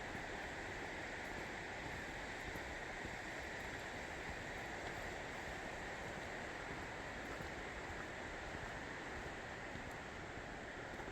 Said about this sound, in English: I like hearing that sound of running water on the way back